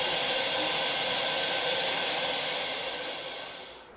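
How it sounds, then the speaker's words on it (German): A steam locomotive of the Wälderbähnle railway hisses steadily while taking on water at a water crane, a loud, even rush of steam that fades slightly toward the end. "Während die Dampflok ihren Durst am Wasserkran stillt,"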